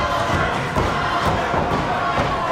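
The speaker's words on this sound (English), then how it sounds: "Boy, the crowd really rallying behind Ad Hutchinson here." Wrestling crowd at a heavyweight title main event roars for Ad Hutchinson, a loud, dense wall of cheering and shouting with a thud partway through.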